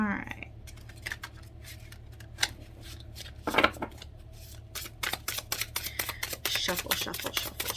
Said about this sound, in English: Shuffle, shuffle, shuffle, shuffle.